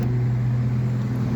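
Turbocharged, nitrous-fed Pontiac Grand Prix GTP engine running on E85 at idle, a steady low droning hum, quiet and even, with no talk.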